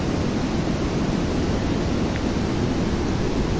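Rushing water of a flooded river beside the Besisahar–Manang highway, a loud, constant broadband roar with no breaks or voices.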